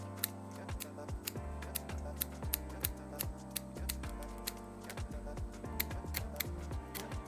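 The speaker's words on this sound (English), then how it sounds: "So I'm just going to cut tiny snips so you get like a more natural look" Scissors make many quick, close snips while trimming the excess lace of a lace front wig, a crisp irregular series of small cuts with brief pauses.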